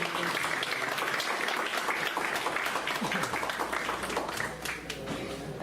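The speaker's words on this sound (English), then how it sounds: "Can we have a round of applause?" Audience applause for conference panelists at a sports science conclave, a steady broadband clapping that fills the hall for several seconds at moderate loudness.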